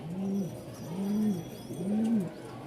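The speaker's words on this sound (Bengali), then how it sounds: "আলহামদুলিল্লাহ কবুতরগুলোর কোয়ালিটি দেখেন" Lahori pigeons coo in three soft, rounded, evenly spaced calls, close by over a quiet background.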